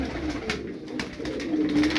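Small pet budgerigars chirp and twitter steadily at close range, a busy layered chatter over a low background hum with no one speaking.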